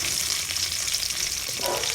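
Dried red chili frying in hot oil for mango rice, a dense, even crackling sizzle that holds steady and fairly loud throughout, with no voices.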